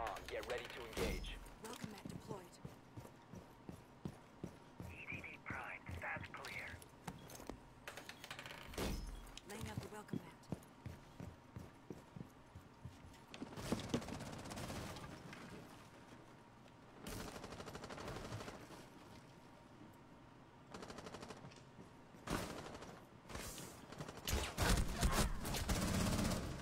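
Gunfire in the tactical shooter Rainbow Six Siege: scattered sharp shots and short bursts recur through the round, some louder and some more distant, under frequent game voice lines and player talk.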